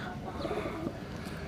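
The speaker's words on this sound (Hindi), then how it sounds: "वाइट किंग वाले और गोल्डन किंग वाले कबूतर हैं" Soft, steady cooing from white king and golden king pigeons kept on a rooftop, a low murmuring coo that continues throughout at a moderate distance with no one speaking.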